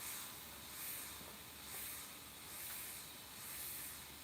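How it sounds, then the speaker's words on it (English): An airbrush spraying paint gives a faint, continuous airy hiss that swells and fades gently in a slow, regular pulse, heard alone and close without speech. "Now, this airbrush is getting right in there."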